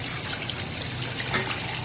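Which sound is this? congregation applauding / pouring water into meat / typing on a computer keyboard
pouring water into meat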